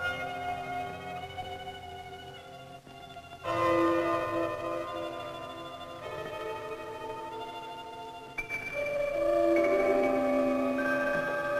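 Bells ring with long, overlapping resonant tones, new strikes swelling louder twice as earlier tones hang and decay.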